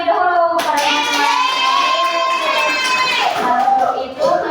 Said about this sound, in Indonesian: Ibu akan memberi tepuk tangan terlebih dahulu pada teman-teman.